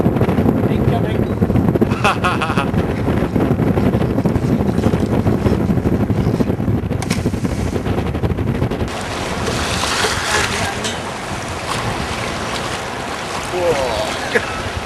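A Moth foiling sailboat skims past on open water amid heavy wind buffeting and water rush, loud and close at first and then fading, while people talk and call out.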